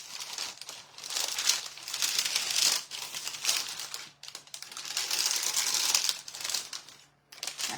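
Parchment paper crinkles and crackles steadily while being pressed and worked for decoupage, a dense close-up rustle with brief pauses, no voices.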